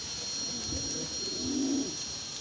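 Pigeons coo softly in a rooftop loft, a low, rolling, throaty call that swells briefly in the middle over a steady faint background hiss.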